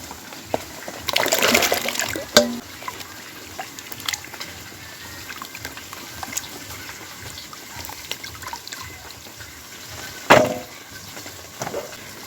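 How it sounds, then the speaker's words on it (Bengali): Potatoes being washed in water at a home kitchen during a family gathering: brief splashes and sloshing near the start, a sharp splash around ten seconds, with faint trickling and a low background between. "ওদিকে আলুটা ধুয়ে নিচ্ছি"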